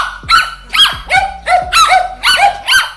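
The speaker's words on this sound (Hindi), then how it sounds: "इस कुत्ते को जमकर एक चपेट दे डाली, जिसके बाद कुत्ता भाई रोते हुए वहां से भाग गया" A dog yelps and cries after being struck by a lizard's tail, six sharp whimpering yelps in a steady rhythm, close and loud with no talk.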